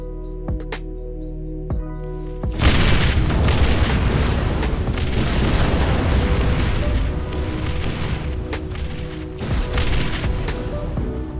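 Jets exploding in an AI training simulation game: a couple of sharp booms, then a heavy sustained roar of blasts and rumbling that stays loud throughout.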